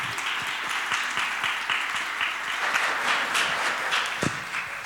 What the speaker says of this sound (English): let's say thank you very much to Kristian Salo with a big applause